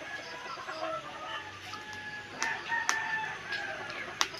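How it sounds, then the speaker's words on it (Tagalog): A rooster crows on a Philippine homestead, heard moderately clear against quiet rural ambience, with a few faint clucks and sharp ticks around it. "Parang nahapon na ang manok."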